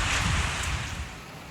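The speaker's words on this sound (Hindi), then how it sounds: "तेज़ बारिश हो गई है, झालाबारी भी हो गई और फिर से अब स्टार्ट हो रही है" Heavy rain pouring during a thunderstorm in Islamabad, a loud, dense rushing wash with low rumbling wind noise, fading slightly over a brief moment.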